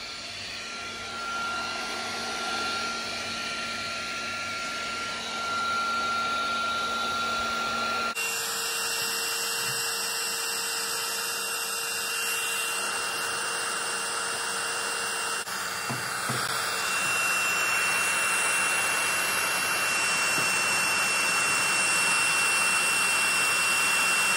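A Makita heat gun blows steadily at its highest fan setting with the trigger locked on, giving a continuous loud whirring rush with shifting tonal whines and no talk.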